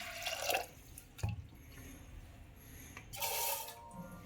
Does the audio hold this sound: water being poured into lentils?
yes